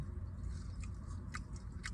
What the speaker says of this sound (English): If you don't like smacking, then this video ain't for you.